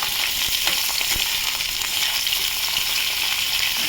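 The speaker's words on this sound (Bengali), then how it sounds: "এবার আমি ঝিঙেগুলো দিয়ে দেবো" Pieces of ridge gourd sizzle in hot oil in a pan with a steady, dense hiss and occasional light crackles and stirring taps, close and fairly loud, no talking.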